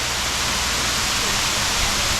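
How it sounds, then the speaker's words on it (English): Small jungle waterfall in Thailand, a steady dense rush of falling water, loud and close with no breaks. "what an amazing little waterfall"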